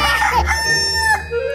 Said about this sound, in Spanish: Este es el gallo.